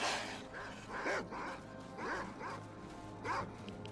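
Dogs barking in the video game S.T.A.L.K.E.R.: Call of Pripyat, several sharp yelping barks in an irregular rhythm at moderate distance over a low steady game hum.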